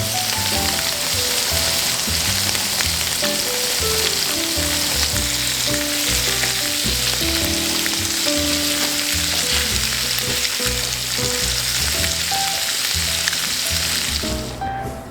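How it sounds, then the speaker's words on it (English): Vegetables for a veggie pad thai browning in hot oil, a loud, continuous sizzle with occasional stirring, over faint background tones, cutting off abruptly at the end. "Let them get as brown as I can in the oil."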